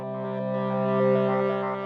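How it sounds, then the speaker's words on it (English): A sustained synth note sent through an echo effect in music production, loud and steady with repeating echoes, slowly tailing off across the clip, with no voice. "I think this sounds good sending it to the echo, so I'll shorten the MIDI clip to let the synth tail off"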